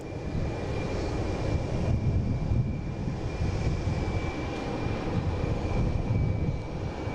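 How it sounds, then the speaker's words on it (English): A Lufthansa airliner approaching Boston Logan Airport, its engines a steady, broad roar that holds at a fairly loud level throughout, with a faint constant whine above it and no voices. "I wonder if they're going to land Lufthansa on 3-3."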